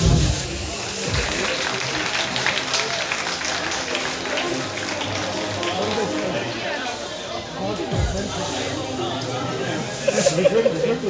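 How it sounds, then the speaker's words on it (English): Students clap together at a college program, a dense, continuous patter of applause mixed with crowd chatter and nearby talking. "The student has to clap."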